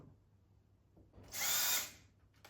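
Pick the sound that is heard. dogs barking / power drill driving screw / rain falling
power drill driving screw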